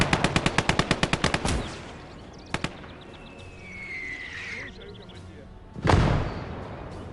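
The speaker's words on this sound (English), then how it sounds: "there goes the Minenwerfer again" Minenwerfer trench mortar in a World War II game battle near Operation Iskra: a rapid string of sharp gunfire opens, then a lone double report, a whistling streak, and a heavy thudding blast near the end amid battlefield noise.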